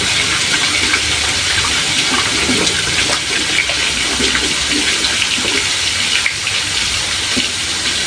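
Water runs steadily from a kitchen tap during handwashing, a continuous broadband splashing gush with no pauses, close and fairly loud.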